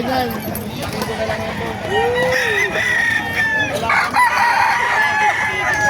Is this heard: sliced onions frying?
no